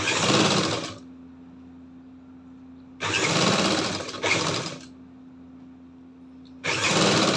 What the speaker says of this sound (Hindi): जस्ट उसी के ऊपर सिलाई देनी है इस तरह।